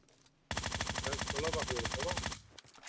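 Gunfire in PUBG Mobile: a single sustained burst of rapid automatic shots lasting about two seconds, loud and close, cutting in sharply and stopping abruptly, with a faint voice briefly underneath.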